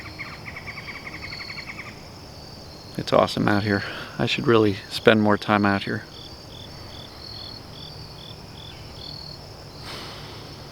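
Insects chirp in rapid pulsed bursts alongside a faint repeating bird call, continuing outdoors while someone talks for a few seconds partway through.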